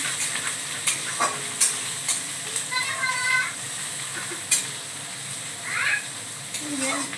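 Food sizzles in a pan as a utensil stirs and clinks at intervals, with some voices and a brief animal-like cry in the mix.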